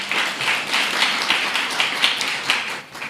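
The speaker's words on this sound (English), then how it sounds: "Let's give him a round of applause" A hall audience at a speech contest gives a round of applause for an introduced guest, dense continuous clapping that is loud and close, with no talk over it.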